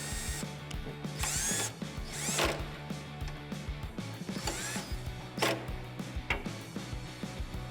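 A power tool with a ratcheting clatter snugs down the tailgate hinge bolts on a 2007-2018 Jeep Wrangler JK fitted with a Smittybilt XRC tailgate, whirring in short bursts with clicking mechanical chatter close by.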